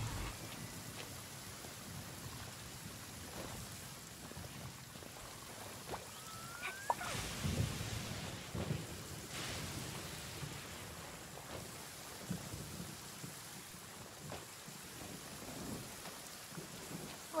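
Rain falls steadily in the video game Genshin Impact, set in its new Sumeru region, while thunder cracks and rumbles several times, loud bursts rising over the soft, continuous patter.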